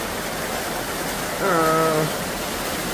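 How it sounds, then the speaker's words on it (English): Steady rain hisses in a continuous wash, with a brief tonal whine rising over it midway. "It's raining pretty good now"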